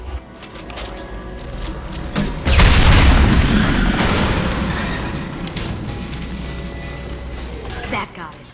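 Heavy weapons fire blowing up tanks in the video game Mass Effect 2, a loud booming explosion with a long rumbling decay, surrounded by softer combat noise and thuds.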